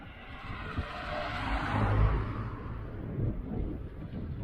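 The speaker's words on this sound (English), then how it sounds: "Got a car coming through." A car passes on a hilly country road through farmland on a windy day, its engine rumble swelling to a peak and then trailing off under steady wind noise.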